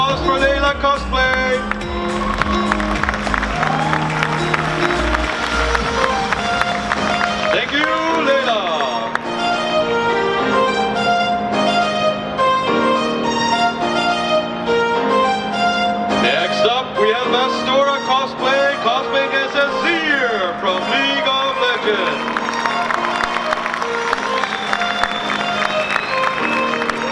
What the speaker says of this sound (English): A huge round of applause for Layla cosplay.